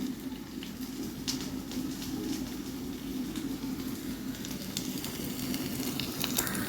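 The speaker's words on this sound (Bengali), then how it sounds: "আমি এটা বারে বারে নাড়া দিব, দিয়ে দিয়ে রসুনগুলো হালকা লাল হবার অপেক্ষা করব।" Garlic fries in a pan over a gas stove, a continuous close sizzle with scattered crackles and pops as it is stirred, and no one speaking.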